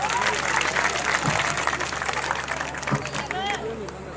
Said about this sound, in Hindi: अपने बच्चों के लिए जोरदार तालियां